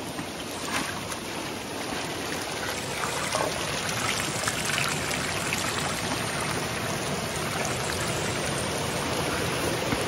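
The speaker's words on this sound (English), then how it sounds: "I dump the water out, but don't dump out any of the rocks" Steady rushing, trickling water runs throughout as water is poured out of a gold panning bucket outdoors by a river in Alaska, continuous and fairly loud.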